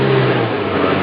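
A car engine hums with a steady, loud idling drone at close range, with no talk over it.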